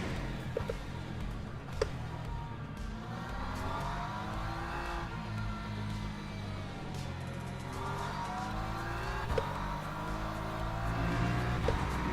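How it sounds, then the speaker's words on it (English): Ferrari race car in the Le Mans Ultimate racing game, its engine note rising and falling through gear changes at steady loudness for the whole stretch, with no talking. "this Ferrari is very quick"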